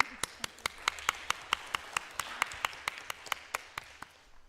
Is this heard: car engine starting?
no